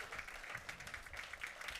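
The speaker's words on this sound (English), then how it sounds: "So let's just give him a big round of applause because this stuff's super advanced." Audience applause at a School of Rock keyboard jam-band performance, steady and fairly faint crowd clapping that keeps up evenly throughout, as if heard from within the room.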